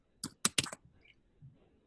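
Keys clack on a computer keyboard during an algebra lesson on polynomials, a few quick close taps in a short burst followed by a pause and one more tap, alone in a quiet room.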